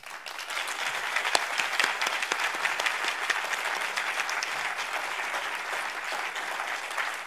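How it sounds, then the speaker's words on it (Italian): Warm audience applause after a university lecture at Bicocca, a steady wash of many hands clapping at moderate loudness, fairly close and continuous, with no talk over it. "Un applauso per il professor Floridi, che ha condiviso con noi il suo pensiero."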